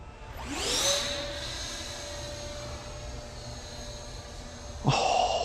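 A 3D-printed 64mm electric ducted fan Mirage 2000 model jet flies past, its whining turbine sweeping with a rising then falling pitch, then holding a steady high whine before another loud surge near the end.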